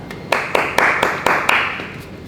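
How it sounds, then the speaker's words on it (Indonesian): A small group claps in a few spaced, separate bursts of sharp hand claps, fairly close, with no talking over them. "Tepuk tangan lah."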